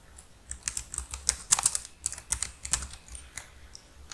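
Close, steady clatter of fingers on a computer keyboard while writing HTML list code, with quick runs of crisp key clicks and brief pauses, no talking.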